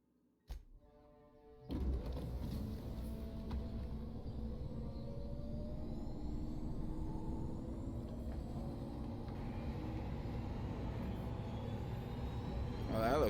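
A spaceship in The Outer Worlds lifts off toward low orbit with a rising roar and engine rumble that builds after a short quiet start and holds steady, loud and continuous, with a voice speaking over it.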